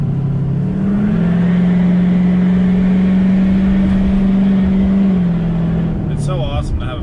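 A 2006 Duramax diesel truck drives with a steady, loud engine drone heard from inside, the pitch holding level before easing off, and a brief voice near the end.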